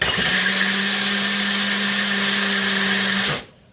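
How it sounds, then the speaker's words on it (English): A small mixer-blender whirs steadily while blending tomatoes for soup, a loud continuous high motor whine that holds for about three seconds and then cuts off abruptly. "I'm going to stick those in this little bitty mixer blender thingy that I've got"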